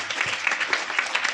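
School audience at a seminar breaking into applause, a dense, even burst of many hands clapping, fairly loud and brief.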